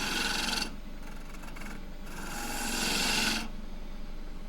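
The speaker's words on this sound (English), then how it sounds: "So I've got my 3/8 spindle gouge here." A 3/8 spindle gouge cutting a wood vessel on a lathe gives a steady rasping, scraping hiss in two longer passes with a brief pause between, close and alone without talk.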